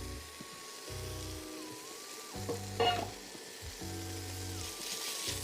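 Bacon sizzling and crackling in a pot as the base for soul-food collard greens pot liquor, a steady frying hiss under tonal background sounds, with a brief louder burst near the middle.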